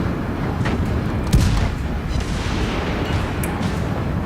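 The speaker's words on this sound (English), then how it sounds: "just your standard main battery guns" Main battery guns on a warship fire in World of Warships Legends, a deep boom standing out once amid steady rumbling battle noise, with no talk.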